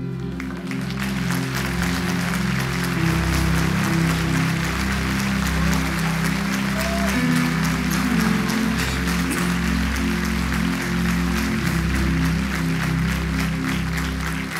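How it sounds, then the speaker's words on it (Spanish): Church congregation applauding after a sermon, a broad steady wash of clapping running under loud sustained organ or keyboard chords and low music throughout. "Nos sacó mucho aplauso este mensaje."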